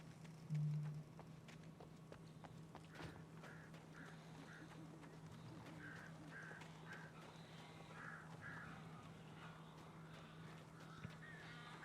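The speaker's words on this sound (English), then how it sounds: "It's a lot of birds." Crows caw repeatedly at a distance in the game Alan Wake Remastered, a string of harsh calls over a low steady hum and ambient game noise.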